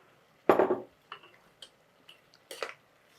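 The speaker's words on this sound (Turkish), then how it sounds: "Bunları böyle bir karıştırıyorum." A cinnamon stick stirs boiled beans in a pot, giving a few sparse, close clinks and knocks: one louder strike followed by several lighter taps at uneven intervals, with no talking.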